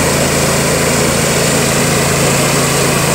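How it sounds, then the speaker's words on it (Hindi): The engine of a self-propelled mist boom sprayer, one of two engines fitted on the machine, runs at a constant, loud idle-like drone with a steady hum throughout and no voices. "ये इंजन इसमें लगा हुआ है, दो इंजन है इसमें"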